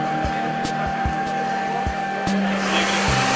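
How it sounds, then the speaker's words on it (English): An escalator cleaning machine runs steadily with its vacuum on and brushes turning, a constant loud whirring drone with regular knocking pulses from the rotating brushes, no talk over it. "so you can basically see from front that the vacuum is on and then the brushes are moving inside on the surface of the escalator"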